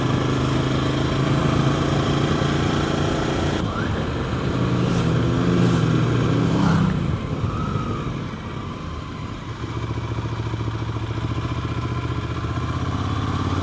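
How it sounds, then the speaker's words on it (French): A group of motorcycles roars past nearby on a Pyrenees mountain pass road in Ariège, engines rising and fading in turn over constant wind and road noise. "C'est peut-être le premier groupe de motos que je croise depuis ce matin."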